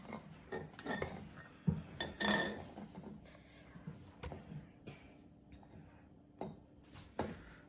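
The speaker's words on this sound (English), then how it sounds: "And now Mommy will bring that pan again." A play-dough-making pan being handled in a home kitchen gives scattered metallic clinks and clatters, close and fairly quiet, with a few sharper knocks spread across the moment and little talk.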